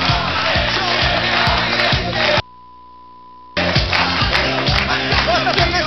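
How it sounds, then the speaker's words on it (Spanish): A live audience at a comedy-style show claps and cheers as a guest is called up, a loud dense roar of crowd noise with shouts, briefly cut off by a silent gap before resuming with music-like tonal layers underneath. "un aplauso para Ernesto"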